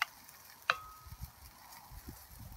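Two strips of bacon start cooking in a pot for gravy, giving a faint, low crackling sizzle with a sharp pop near the start and scattered soft spits after.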